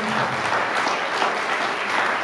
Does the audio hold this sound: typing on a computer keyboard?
no